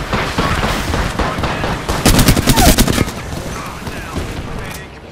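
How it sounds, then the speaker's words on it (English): Gunfire in the Apex Legends battle royale shooter, loud rapid bursts of automatic shots near and far, densest in the middle, with continuous battle noise throughout. "I'm taking shots."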